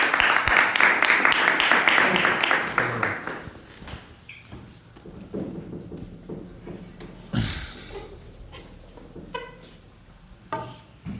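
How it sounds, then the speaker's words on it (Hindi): Loud clapping from a crowd for the first few seconds, then fading out into scattered taps and quiet room noise. "सभी लोगों के तालियों के साथ हमारे सुनील सर को इनवाइट करने वाले हैं।"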